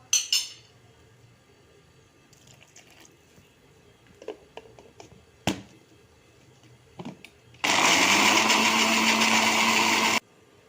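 After scattered clinks and taps, a mixer grinder whirs loudly grinding boiled chickpeas with water for about two and a half seconds, then cuts off abruptly.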